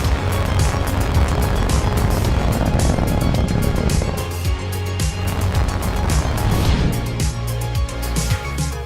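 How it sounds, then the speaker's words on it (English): A SpaceX Falcon 9 rocket roars steadily at liftoff for a satellite launch mission, a dense, continuous low rumble with crackling texture that holds unbroken throughout. "Falcon 9 has cleared the tower"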